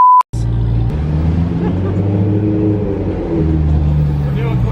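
A straight-piped BMW M3 roars loudly close by, its deep, droning exhaust note rising and falling steadily after a brief tone at the start.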